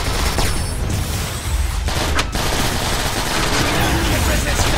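Sustained, dense gunfire from automated station defenses in Transformers: War for Cybertron, a continuous loud barrage of rapid shots with booming impacts throughout.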